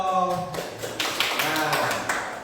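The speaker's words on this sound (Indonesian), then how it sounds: "tepuk tangan untuk kita semuanya dong." Students applaud in a classroom, a burst of scattered hand claps rising after a brief voice, continuing as a dense, irregular patter, with some talk mixed in.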